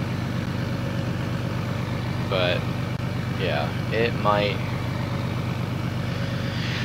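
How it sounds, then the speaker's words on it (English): A heavy truck engine in Farming Simulator 19 rumbles steadily in the background while someone speaks briefly over it. "Hopefully you guys can hear me over the truck."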